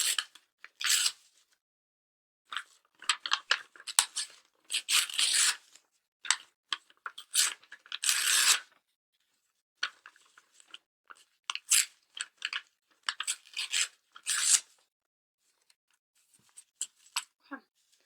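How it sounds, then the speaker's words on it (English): Sheets of paper ripped by hand down the middle to make flashcards, a run of short, crisp tearing bursts in uneven rhythm with brief pauses between, close and fairly quiet. "you can of course rip the paper right down the middle"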